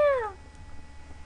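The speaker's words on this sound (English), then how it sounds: "my little ship makes noises like meow meow meow meow meow" A small ship in the video game Spore lets out one quick synthetic meow, a bright tone sliding downward and fading within half a second, followed by low game background noise.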